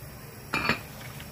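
A metal lid is set back onto a cooking pot of simmering braised chicken, giving one brief, close clattering clink over a quiet kitchen background.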